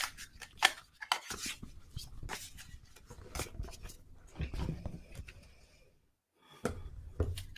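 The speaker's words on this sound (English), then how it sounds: "I'm just gonna shuffle my deck" Quiet tarot deck shuffling with the Lightseers Tarot, a run of soft papery riffles and card slaps in short bursts with brief pauses between them, close up, with faint voice sounds mixed in.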